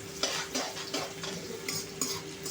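Onion sizzling in oil for fodnicha bhaat while a spatula stirs it around the pan, several scraping strokes over a close, steady fry.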